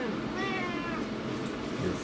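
A small feral cat gives one drawn-out, wavering meow near the microphone over a steady background hum, and a person speaks faintly nearby.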